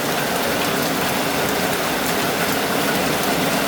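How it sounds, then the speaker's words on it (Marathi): Heavy rain pouring down in Kerala beside a house, a dense, steady hiss of drops hitting surfaces at close range, loud and unbroken throughout, with no voices. "पुन्हा पाऊस सुरू झाला तर आता जबरदस्त पाऊस"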